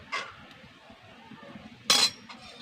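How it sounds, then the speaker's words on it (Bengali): A metal kadai set down on a clay stove, giving two sharp metallic clanks, the second louder and ringing briefly, over a quiet background. "এবার উনানের মধ্যে আমি কোড়া বসিয়ে দেবো"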